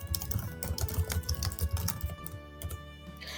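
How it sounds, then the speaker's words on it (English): Steady, quick typing on a computer keyboard, keys clicking close and distinct in an irregular run of taps that slows toward the end, with no voices. "First, let's type out our text."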